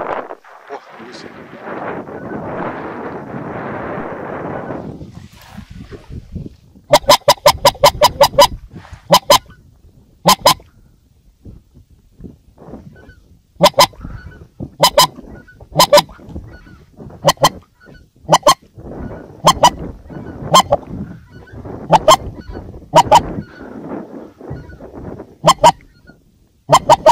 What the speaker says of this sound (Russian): О, гуси.